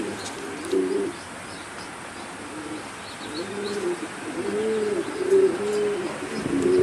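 A pigeon-like bird gives soft, repeated low coos in short phrases, heard close against a gentle background hiss with faint chirps.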